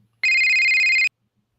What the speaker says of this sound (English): Oh my God, these phone calls.